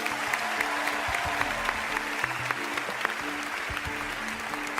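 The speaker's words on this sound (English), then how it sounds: "How about a big round of applause for both of them?" A crowd applauds steadily, dense clapping filling the whole stretch at moderate loudness with no break.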